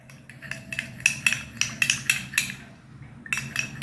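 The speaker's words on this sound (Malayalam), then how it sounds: "ഒരു സ്പൂൺ റോസ് വാട്ടറും കൂടെ എടുത്ത് നമുക്ക് നല്ലോണം ഒന്ന് മിക്സ് ചെയ്യാം" A spoon stirs rose water into a glycerine face-pack mixture in a small dish, giving a run of quick, close, bright metallic clinks and scrapes in an irregular rhythm, with a brief pause before more clinking.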